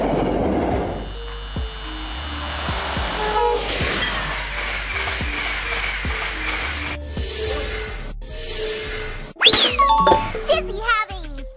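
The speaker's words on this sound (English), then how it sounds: "A train that travels over large distances, often providing sleeping and dining services." A long distance train, with rumbling rail noise and tonal horn-like sounds building, then sharp bright whistles and jingling near the end, with a voice mixed in.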